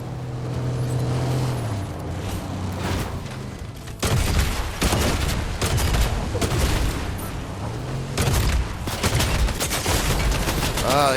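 Gunfire in the video game Fortnite, with bursts of rapid shots and booms filling the mix over a steady game soundtrack, loud and dense throughout.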